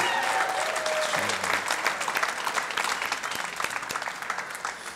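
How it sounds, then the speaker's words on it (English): Sustained audience applause fills a live music show stage, a dense wash of clapping from a crowd holding steady and loud throughout without talk. "Let's hear it again for Sally and George"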